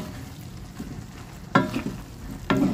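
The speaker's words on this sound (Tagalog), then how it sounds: "Haluin lang natin." Sponge gourd (patola) fries in a pan with a soft steady sizzle, while two sharp scraping stirs of the spatula cut through near the end.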